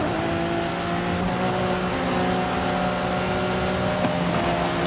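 A Lamborghini Aventador SVJ in the racing game Forza Horizon 5 drives with a loud, steady engine roar, holding a high, sustained drone with only slight shifts in pitch throughout.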